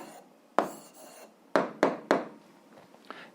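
A pen or chalk writes an answer to a seventh-grade algebra problem, heard as a few close scratchy strokes and taps separated by short pauses.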